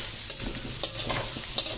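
Onions frying in a pan for egg fried rice, a steady close sizzle broken by three evenly spaced scrapes of a spatula stirring them.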